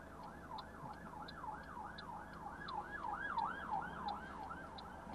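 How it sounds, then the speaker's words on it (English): A wailing emergency vehicle siren sweeps up and down in a steady repeating cycle at a crossroads, faint and distant beneath low traffic rumble inside a car. "I've got some sirens in the distance as well"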